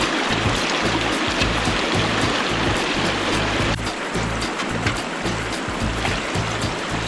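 A creek at an Arizona gold prospecting claim flows steadily with a close, even rush of water, broadband and continuous, with a low rhythmic rumble underneath and no talk.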